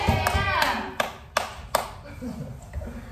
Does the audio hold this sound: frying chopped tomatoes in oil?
no